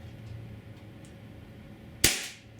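A single sharp shot from an HK P30 4.5mm CO2 pellet gun rings out close and loud after a quiet stretch, followed by a short decaying tail.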